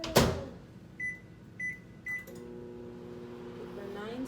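Microwave oven heating a baby's oatmeal: a door knock, three keypad beeps, then the steady hum of the running oven, nearby and moderately loud.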